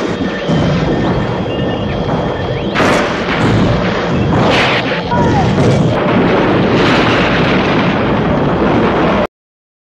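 A loud, sustained explosion destroying a facility roars with deep booming rumble and bursts of crackling debris, repeated blasts swelling over several seconds before cutting off abruptly.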